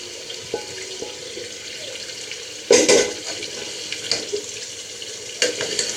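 Beetroot dessert mixture with flour, sugar and a ground coconut, almond and pistachio paste being stirred in a pan, giving soft wet scraping and slurping sounds with a couple of louder clanks, close and steady, no talking.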